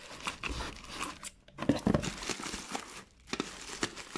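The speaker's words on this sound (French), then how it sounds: "Évidemment avec des ciseaux qui coupent pas." Blunt scissors cut open the packaging of a gift box, giving close, uneven snips mixed with crinkling plastic and short pauses, and a voice speaks faintly at times.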